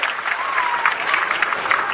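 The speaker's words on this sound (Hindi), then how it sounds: "इस बात के लिए जोरदार ताली बजा के माननीय मोदी जी का अभिनंदन करें।" Crowd clapping at a Haryana election rally, a dense sustained burst of applause from a large gathering, loud and steady throughout.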